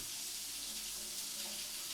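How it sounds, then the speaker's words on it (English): Shower water runs steadily in a continuous, even hiss that holds a constant level from start to finish, with no voices. "A guy in the shower."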